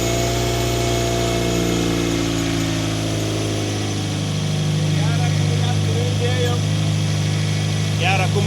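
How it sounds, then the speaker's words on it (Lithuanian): An old Toyota Celica, jump-started with a booster, runs at a steady close idle with an even mechanical hum that barely shifts in tone throughout. "Gerą kumą įdėjom ir pūkšt iš karto ein mašiniuks"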